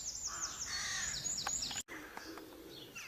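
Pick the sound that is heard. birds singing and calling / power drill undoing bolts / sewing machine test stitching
birds singing and calling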